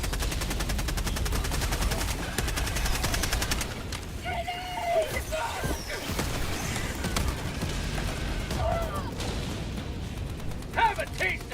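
Rapid gunfire from the Helldivers video game as players mow down bugs, a dense rattling barrage of shots layered with game effects and players talking over it.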